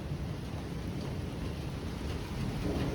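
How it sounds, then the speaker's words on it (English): Hail pelts down steadily during a thunderstorm in Middleburg, a dense, even wash of impacts close by with a low rumbling underneath, no voices. "It's hailing outside."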